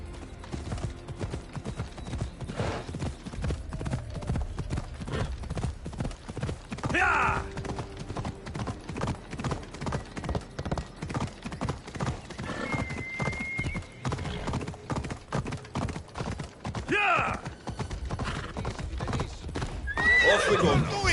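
Horse hooves clip-clop steadily through a scene in Assassin's Creed Odyssey, with several loud neighs and whinnies breaking out over the footfalls amid ambient game sounds.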